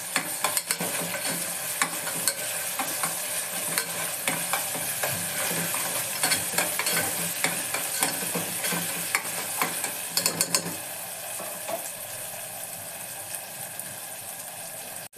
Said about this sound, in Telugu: తర్వాత 1 స్పూన్ అల్లం వెల్లుల్లి పేస్ట్ మళ్ళీ ఒకసారి కలబెట్టుకుందాము.